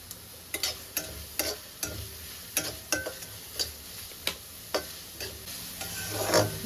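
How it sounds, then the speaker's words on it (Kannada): Onions frying in hot oil in a pan give a steady sizzle, broken by a run of sharp, evenly spaced scraping clicks from stirring, up close with no talking. "ಸೊ ಅದು ಸ್ವಲ್ಪ ಬಿಸಿ ಆದಮೇಲೆ ಫಸ್ಟು ಆನಿಯನ್ಸ್ ಹಾಕ್ಕೋಬೇಕು"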